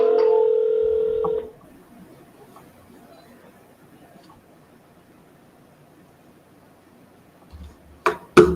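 A telephone plays a steady dial tone or tone sequence for about a second and a half at the start of an outgoing call. Near silence follows, then a few brief clicks and knocks near the end.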